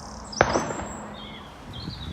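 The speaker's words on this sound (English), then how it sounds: "You know you're on an urban canal when you hear gunshots" A single gunshot cracks sharply early, echoing briefly across open space beside an urban canal, followed by quieter ambient noise and a few faint chirps.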